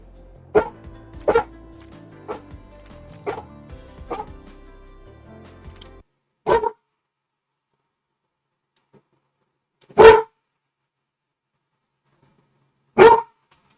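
Dog barking in a horror video game demo: a run of sharp barks over faint background game sound, then three loud, isolated barks spaced several seconds apart against near silence.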